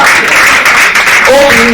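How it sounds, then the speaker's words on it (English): Audience applause at a gathering as participants are called forward by name, a broad wash of clapping with a voice rising over it near the end. "please with a round of applause"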